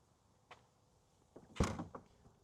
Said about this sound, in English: Again, soft closed doors.